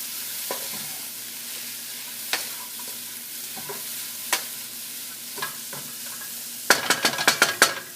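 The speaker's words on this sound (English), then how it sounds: "Let's put a little garlic powder in there. And we shall give that a stir." Sizzling food with a sprinkle of garlic powder is stirred in a pan, a steady fry hiss broken by scattered spoon clicks and then a quick cluster of utensil taps near the end.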